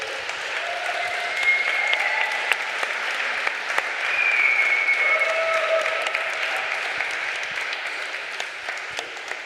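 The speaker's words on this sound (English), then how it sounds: "we should give really an applause to the whole panel a bit longer" Audience applause for a conference panel at a tech and culture event, a sustained, even roar of many hands clapping for several seconds with a few brief tones rising over it.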